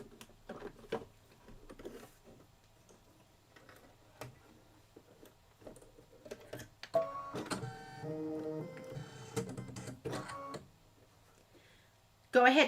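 Embroidery machine stitching out a quilting stitch on a Kimberbell Pumpkins & Potions quilt block, a quiet rapid ticking that swells into a louder, denser mechanical run partway through, close up.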